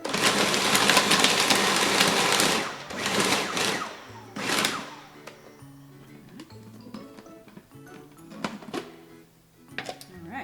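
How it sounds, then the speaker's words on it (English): A food processor grinds oats with chocolate chips for black bean brownies: a loud, rough whirring roar in pulsed bursts, then quieter rattling and clattering of the chips shifting around the bowl. "we're just gonna mix to grind up those oats a little bit. And you'll hear the chocolate chips moving around in there too"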